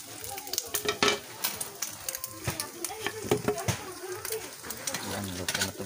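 Steady crackling sizzle of small paitan fish frying in hot oil, close up, with intermittent pops and a few soft clatters throughout.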